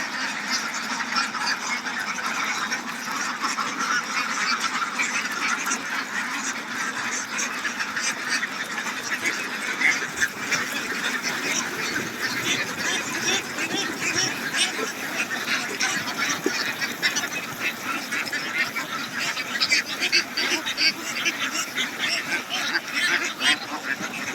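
Flock of ducks on a village duck farm in Chalan Beel, Bangladesh, feeding and calling, a dense continuous chorus of quacks and honk-like calls close by throughout.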